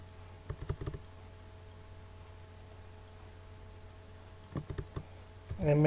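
Computer keyboard keys pressed during AutoCAD work: a short cluster of clicks early on, then another burst of key taps near the end, quiet and close over a steady background hum.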